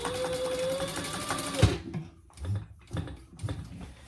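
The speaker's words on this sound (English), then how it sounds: "we're going to baste our D-ring in place and the other end of our strap" Sewing machine basting a D-ring and strap onto a zipper top, a close rapid mechanical stitching run that stops abruptly, followed by a few short clicking bursts of the machine and handling.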